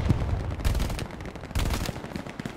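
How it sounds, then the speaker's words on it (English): Rapid MG-42 machine gun bursts in the WW2 shooter Hell Let Loose crack out loud and close, in dense automatic volleys with overlapping battlefield gunfire. "MG-42 firing somewhere close"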